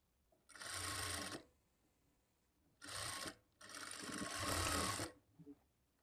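A sewing machine stitches a folded seam in a blouse lining, whirring in three close bursts: a short run, a brief one, then a longer steady run, with quiet pauses between.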